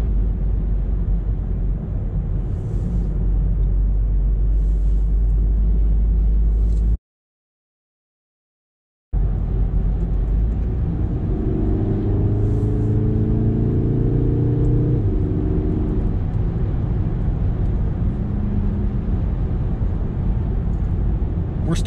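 A 2017-onward VW Golf R MK7.5 on a cold day, its engine still warming up, gives a steady low drone while driving, with a brief silent gap and faint rising engine tones later.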